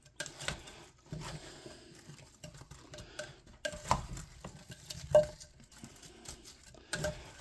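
Chicken wings being stirred in a pot with a spatula, giving soft irregular scraping and patting sounds with occasional light clinks against the pot, quiet and close with no talk.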